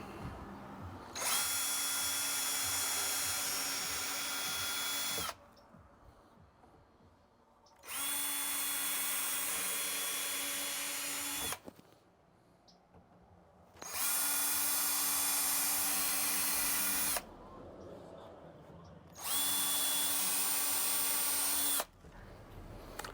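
A power drill whines loudly in four long bursts of several seconds each, with quiet pauses between them, boring holes with a bit of about 3/8 inch.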